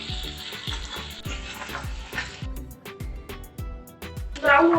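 Chopped onions frying in a pan, a steady close sizzle throughout with regular scraping stir strokes and a louder burst of sizzling near the end.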